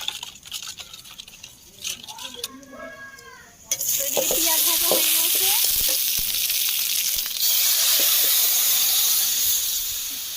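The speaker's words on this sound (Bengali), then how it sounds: "নুন দিয়ে নেবো ডালের মধ্যে দিয়ে একটু ডালটা ঘেটে নিই" Lentil dal is stirred with salt in a pot, starting with light utensil clinks and scrapes before a loud, steady sizzling hiss takes over for the rest.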